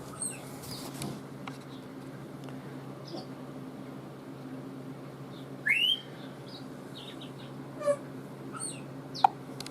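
A pet bird gives several brief, sharp chirps and squeaks, spaced irregularly over a steady low indoor hum, each call loud and close, with no talking.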